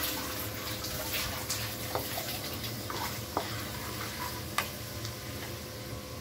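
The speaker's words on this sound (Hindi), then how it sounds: "तो हम इसको हल्का सा सौते करेंगे" Chicken with ginger sizzles gently in a pan, a steady close hiss with a few light spatula taps and scrapes scattered through it.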